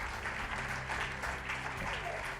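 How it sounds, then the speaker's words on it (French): Conference audience applauding at the close of a French colloquium, a dense, continuous patter of many hands, fairly distant and steady, with faint crowd murmur beneath. "Et on l'applaudit très fort"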